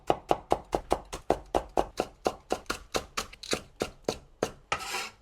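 A knife finely chops spring onions on a board in a steady, quick rhythm of about twenty close, crisp taps, ending in a softer scraping sweep.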